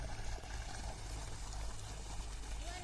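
Steady rush of flowing irrigation water in a field channel where children play, broadband wash throughout, low rumble beneath, no clear individual splashes standing out.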